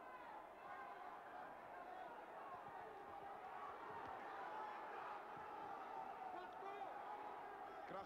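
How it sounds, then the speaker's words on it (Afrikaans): A crowd at a South African middleweight boxing fight, on its feet and cheering, a steady roar of voices and chatter from the arena with a commentator talking over it. "Hierdie geesdriftige skare is op hulle voete."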